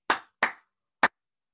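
Hands clap a short syncopated rhythm with tied quavers: two ringing claps close together, a gap, then one sharper clap, crisp and close in a quiet room.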